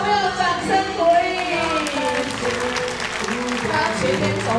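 An audience at a kindergarten graduation ceremony applauds, with a continuous patter of many hands clapping in a hall while voices, including a loud speaking voice, carry over the clapping.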